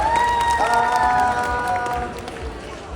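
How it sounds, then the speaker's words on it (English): Audience applause and cheering fill the space at a magic show at the Magic Castle in Hollywood, clapping hands over crowd noise with a voice calling out on top, fading slightly toward the end. "Alright, Marvin, give Marvin a big round of applause."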